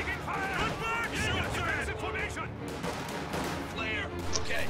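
Jaeger light infantry trade gunfire in a strategy video game, with scattered cracks and bursts of shots at middling loudness while a commentator talks over them throughout.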